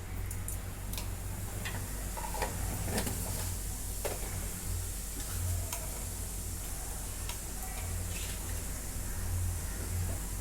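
Black pepper and cumin sizzling in hot oil, a steady soft crackle with scattered sharp ticks and pops throughout, fairly quiet and close, no voices.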